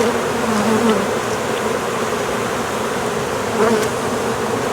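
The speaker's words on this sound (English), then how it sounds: "Try not to crush any bees if you can avoid it." Honey bees buzz around an open hive during a package installation, a dense, continuous hum close by with a few louder passes as single bees fly near, and no talking.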